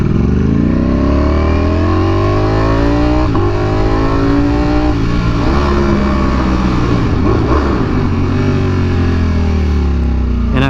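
A V4R motorcycle with a freshly installed exhaust revs hard and loud, its deep engine note rising and falling through several throttle blips over a constant close, heavy rumble.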